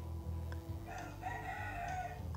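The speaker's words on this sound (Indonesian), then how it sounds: "Oh, sorry kalau suara ayam." A rooster crows faintly in the background during an early-morning game session, its drawn-out call rising over a low steady hum.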